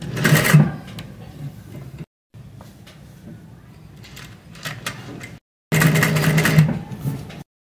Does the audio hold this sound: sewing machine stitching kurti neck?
yes